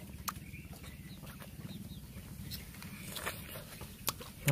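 A chicken clucks nearby at an outdoor rural meal, soft irregular clucks over a steady low background rumble with a few brief knocks and rustles.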